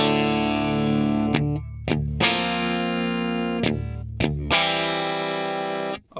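Electric guitar through a MOOER preamp with a compressor, no extra effects, ringing sustained chords with a few short muted stops and restrikes, clean-to-crunchy tone, close and alone.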